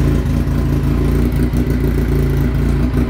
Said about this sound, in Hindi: आइए चेक करते हैं इसकी साउंड, एग्जॉस्ट इसके साथ स्टॉक ही लगा हुआ है तो स्टॉक एग्जॉस्ट पे ही चेक करते हैं।